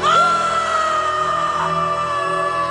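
A man screams on a mountaintop in a film trailer, a long sustained high yell over a dense orchestral score, loud and continuous throughout.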